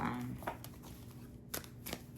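Quick papery riffling bursts of cards being shuffled in a video game, a few short rustles spaced apart over a steady low background.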